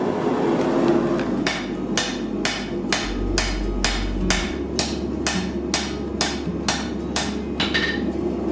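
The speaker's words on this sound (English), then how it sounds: "you're introducing a lot of stresses into the material by striking it with a hammer." A hammer strikes steel while a katana blade is forged, landing about a dozen sharp, ringing blows in a steady rhythm, roughly two per second, loud and close over a low background rumble.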